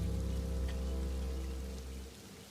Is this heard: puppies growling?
no